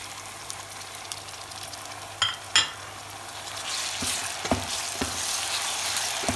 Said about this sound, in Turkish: Soğanımız ve biberimiz kavrulacak.